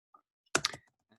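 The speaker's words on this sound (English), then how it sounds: "sorry for my slow typing," A short burst of computer keyboard typing, a few quick close keystrokes clustered together with quiet gaps before and after.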